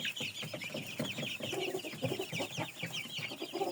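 Several ash-grey chickens cluck and chatter continuously, close by, with no talking.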